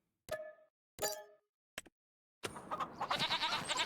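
Goats bleat in the farming video game Farming Simulator 25: three short separate bleats, then a denser burst of overlapping bleats and clinking, fairly faint.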